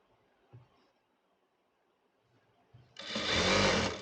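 An electric sewing machine stitches a churidar collar with a loud steady whir that starts abruptly near the end, after a few soft fabric handling bumps in a quiet room.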